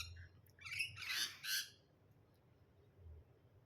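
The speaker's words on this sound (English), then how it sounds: "Like colourful cockatiels." Brightly coloured cockatiels in Queensland give a few short, shrill squawks in quick succession, fairly faint and distant against a quiet background, then fall silent.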